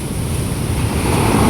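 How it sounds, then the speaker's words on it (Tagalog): Big ocean waves breaking on a beach, a continuous loud wash of surf that swells slightly toward the end, with wind buffeting the microphone and no voices. "Malaki pa rin yung alon."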